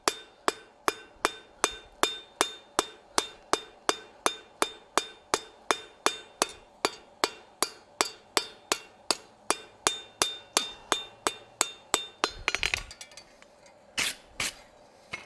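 A hammer strikes hot steel in steady, even blows while forging a decorative hacksaw, about thirty ringing hits in a row, close and clear, ending in a brief scrape and a couple of final knocks.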